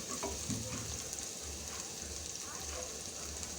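Garlic sizzles and fries in hot coconut oil as it is stirred in a pan, a faint steady crackle with soft scraping, heard close but quietly.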